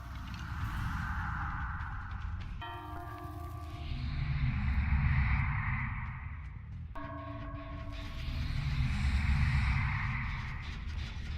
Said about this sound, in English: the Wraith's successful cloak and uncloak sound